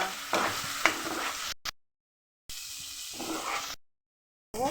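Spice masala stir-fried in oil for a bhetki fish dish, with sizzling and spatula scraping in short bursts broken by abrupt silent gaps, no voices.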